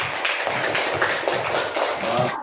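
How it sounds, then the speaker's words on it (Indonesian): Pupils in a classroom clap for a group, a quick, uneven patter of hand claps heard close and on its own. "Tepuk tangan untuk kelompok 1."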